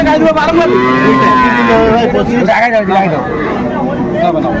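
A dairy cow moos loudly and long at close range at a cattle market, its low drawn-out call rising over a busy crowd of voices and market chatter.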